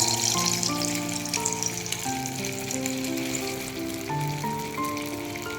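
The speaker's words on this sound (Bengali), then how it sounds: "তেলটা ভালো গরম হয়ে গেলে এই কোপ্তার আকারে গড়ে গোল গোল করে আমি বড়ার মতো ভেজে নেব।" Vegetable kofta balls fry in hot oil with a continuous soft sizzle and bubbling, heard under sustained musical tones that play throughout.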